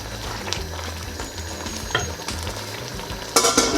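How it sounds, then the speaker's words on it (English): Beef dropped into a steaming pot of sizzling tomato and aubergine stew on a stovetop, giving a steady frying hiss with stirring clatter and a louder burst of sizzle near the end. "I'm now going to add the meat."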